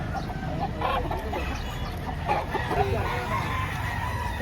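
Chickens and roosters cluck and crow together at a busy poultry market in Lipa, Batangas, a dense, moderately loud din with people talking underneath.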